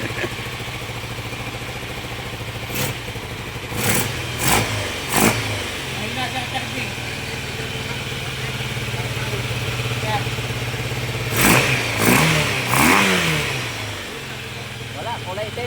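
A Yamaha Super Tenere big bike, left unused for years, sputters and revs in short throttle blips over a steady rumbling idle, loud and close, with people talking nearby.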